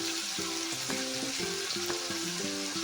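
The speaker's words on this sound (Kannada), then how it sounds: "ಎಲ್ಲ ಹಾಕ್ಕೊಂಡು ಇವಾಗ ಚೆನ್ನಾಗಿ ಫ್ರೈ ಮಾಡ್ಕೊಳ್ಳೋಣ" Mint, coriander and curry leaves fry in a pan for chutney, producing a steady close sizzle throughout, with a tonal background hum.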